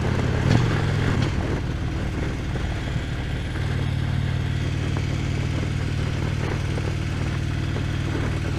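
A motorcycle engine runs steadily nearby, a continuous low mid-pitched drone with a slight blip early on, heard from a rider's helmet-camera position over wind noise.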